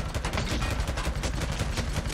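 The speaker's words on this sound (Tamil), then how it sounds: "மிஷின் கன் எடுத்து சூட ஆரம்பிச்சிட்டாங்க அவன் பாட்டுக்கு." Rapid bursts of machine gun fire in the zombie survival game Days Gone, loud and close, a dense stuttering rattle that runs without pause throughout.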